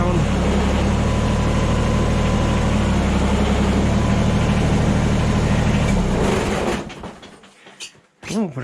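Tractor engine idling with a steady, low rumble for several seconds, then cutting off into near silence broken by a few clunks and rattles.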